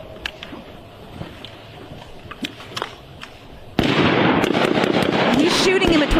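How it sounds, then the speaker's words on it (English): Sharp, scattered gunshots crack at an outdoor shooting range, several irregular reports at moderate distance, before a loud, dense wind-like roar takes over the second half. Voices may be faintly present. "He's shooting in between them right now."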